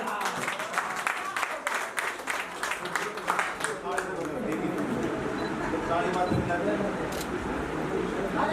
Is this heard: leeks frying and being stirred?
no